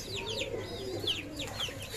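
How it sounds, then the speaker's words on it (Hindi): Pigeons in Karachi coo softly and repeatedly, with a few higher chirps mixed in over a low background hum. "अब कबूतरों को फीड डालते हो"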